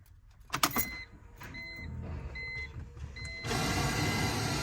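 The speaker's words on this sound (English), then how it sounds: "So gonna put the key in the ignition." A car key clicks into the ignition of a BMW E46 M3 with an intermittent radio fault, a few short electronic chimes sound, then the engine cranks and settles into a steady idle nearby.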